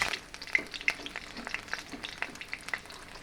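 Green chillies and bay leaves crackle and spit in hot oil alongside dried red chillies, a steady close sizzle with sharp popping bursts and a few utensil stirs, no voices.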